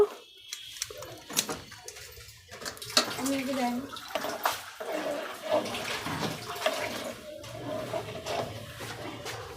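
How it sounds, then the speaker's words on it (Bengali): Tap water running over boiled noodles as they are rinsed for falooda, a continuous splashing gush close by with clinks of a bowl or strainer, and some faint background noise. "আমি এখন নুডলসটাও ধুয়ে নিব"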